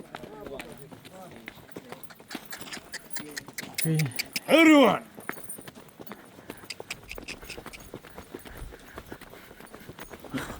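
Donkey hooves clip-clopping on desert ground near Petra, a steady run of quick light hoof beats throughout, with people talking and exclaiming over them.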